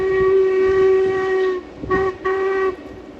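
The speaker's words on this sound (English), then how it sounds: "Jacobite train, known as Harry Potter train, passing on the viaduct" The loud whistle of the vintage Jacobite steam train blows in long sustained blasts, broken by a brief pause, over the rumble of the train as it crosses a viaduct in the Scottish Highlands.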